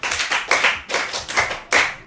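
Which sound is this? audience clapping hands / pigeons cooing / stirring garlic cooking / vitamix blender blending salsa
audience clapping hands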